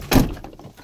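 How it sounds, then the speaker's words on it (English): A door is slammed shut hard, one heavy, close thud followed by a brief fading rumble in a quiet space. "Slam the door any harder, why don't you?"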